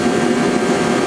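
A flamethrower-style heater roars steadily in a cold winter garage, a loud, close, unbroken rushing blast with no voices over it.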